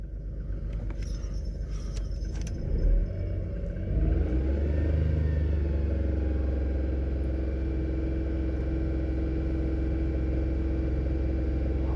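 A car engine runs steadily throughout, a low, loud continuous rumble that settles after a brief clatter and a bump in level early on, during a battery and alternator electrical test.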